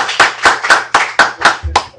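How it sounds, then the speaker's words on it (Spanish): A small class claps at the close of a course, seven loud, evenly spaced hand claps in a steady rhythm, close by and with no talk over them. "Aplausos por favor."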